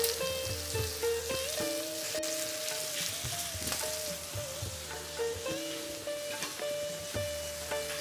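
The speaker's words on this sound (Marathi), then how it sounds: "ढवळायला सोपं जातं आणि भेंडी मोडणार नाही आणि त्यातला मसाला पण शक्यतो बाहेर येणार नाही. अशा पद्धतीने आपण या भेंड्या शिजायला ठेवायच्या." Stuffed okra (bharli bhendi) fries in a pan with a steady, close sizzle and crackle, broken by occasional light stirring clinks and scrapes.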